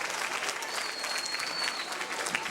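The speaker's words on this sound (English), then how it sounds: "Let's give him a big round of applause for yourself." A crowd at a middle school event claps enthusiastically, a dense burst of applause that stays steady and fairly close for a couple of seconds.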